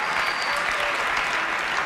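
A keynote audience applauds Steve Jobs' iPhone announcement, a dense, steady wash of many hands clapping with no break or pause, and no voices stand out above it.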